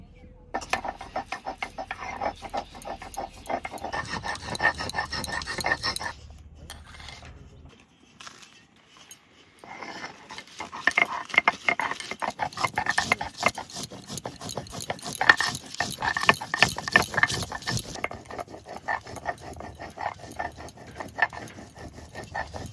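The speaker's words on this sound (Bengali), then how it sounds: "প্রথমে আদা বেটে নেব।" Ginger ground on a grinding stone in a village kitchen, a long run of rapid rough rubbing and clattering strokes with a brief pause partway through, close and steady.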